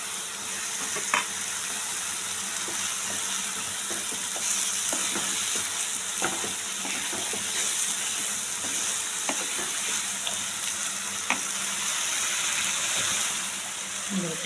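Masala spices fry in oil in a pan for a palak chicken dish, with a continuous crackling sizzle and frequent sharp taps and scrapes from a spatula stirring against the pan.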